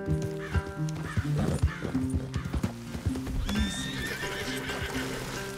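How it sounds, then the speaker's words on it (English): Horses' hooves clip-clop steadily on the ground while horses neigh and whinny nearby, with a faint musical tone in the background, in the video game Red Dead Redemption 2. "Leave the horses in the trees there."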